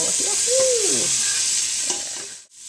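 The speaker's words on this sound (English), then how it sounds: "Here's the sizzle." Steady broadband sizzle of butter frying in a hot pan, loud and close, with a faint scrape of a utensil partway through.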